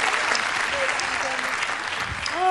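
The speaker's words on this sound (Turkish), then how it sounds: "evet, onlara da bir alkış" Concert audience applause for singers, a brief burst of steady clapping with some voices mixed in at moderate level.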